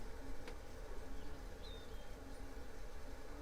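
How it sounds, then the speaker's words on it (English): A faint, steady electrical whir of the small cooling fans on a solar regulator runs throughout, low and constant, with a quiet hiss and no voices. "That whirring sound you can hear is the fans on the actual solar regulator"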